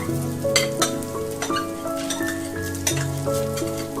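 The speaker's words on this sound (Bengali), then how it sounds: "কমিয়ে রেখে ভালো করে আমি কিন্তু চালটা ভেজে নেব" Soaked Gobindobhog rice for polao frying in a pan over low heat, a steady close sizzle with repeated scraping stirs and light utensil clinks, no voices.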